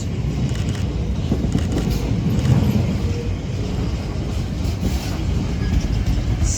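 A Class 66 diesel locomotive hauls a freight train through Doncaster, giving a steady broad rumble of engine and rolling wagons that holds at an even level with a slight swell midway.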